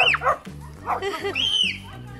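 Dogs in a home on Christmas yip, whimper and bark in short excited bursts close by, mixed with people chattering over them.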